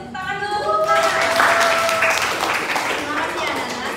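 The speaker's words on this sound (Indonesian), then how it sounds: "Oke, beri tepuk tangan dulu." A classroom group breaks into applause, a steady wash of clapping from many hands, while a voice speaks over it near the start.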